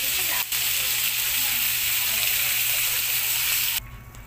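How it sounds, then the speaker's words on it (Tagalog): Vegetable soup bubbles and hisses at a boil in a pot, a loud continuous seething sound close by that cuts off abruptly near the end. "Ayan, guys, kumukulo na."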